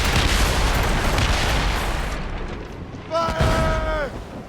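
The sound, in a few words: naval cannon fire in a video game, Assassin's Creed Rogue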